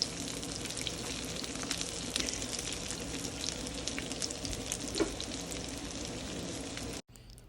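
Chicken shami kababs sizzle steadily in a pan of hot oil, a continuous close crackle with small pops that cuts off abruptly near the end.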